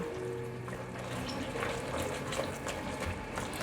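Vegan sauce of sweet pepper strips and wheat gluten simmers on low heat, giving a steady, soft bubbling and sizzling hiss that runs continuously without pause, close and moderately quiet, with no talking.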